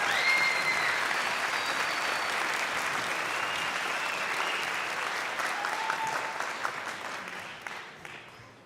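Sustained applause from a ceremony audience honoring vocational nursing graduates at a fall 2022 pinning ceremony, dense and steady throughout before tapering slightly near the end.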